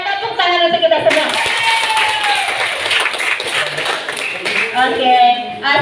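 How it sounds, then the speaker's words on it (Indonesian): Group of students in a classroom clapping their hands together, a busy burst of close clapping lasting several seconds, with a voice speaking briefly before and after. "tepuk tangan untuk kita semua"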